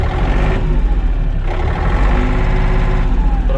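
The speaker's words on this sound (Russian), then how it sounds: "Трактор работает ровно." A Yanmar AF230 mini tractor with a large cab runs steadily just after starting. Its diesel engine makes a loud, close, even rumble with a slight rhythmic pulse and no talking over it.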